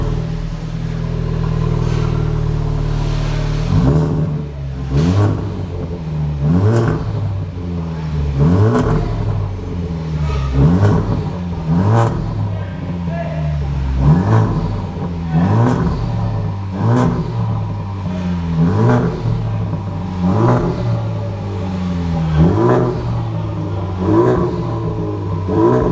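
A Honda Civic Type R FK2 with a turbo-back Cobra Sport performance exhaust ending in quad 4-inch inverted slash-cut tips revs repeatedly, each loud close blip rising and falling in a regular rhythm over a steady idle.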